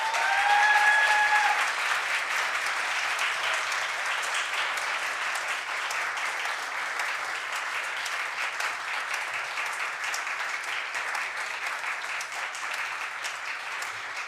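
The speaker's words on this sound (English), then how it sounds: "let's have one more big round of applause for all of our awardees" A large audience at a medical school fall honors convocation claps for award recipients, a steady sustained applause lasting well over ten seconds that slowly thins but never fully stops.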